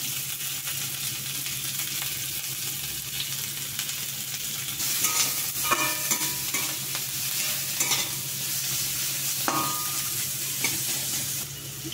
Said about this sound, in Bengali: আমি তেলের মধ্যে দিয়ে নিচ্ছি পেঁয়াজটাকে একটু ভেজে দেবো হালকা।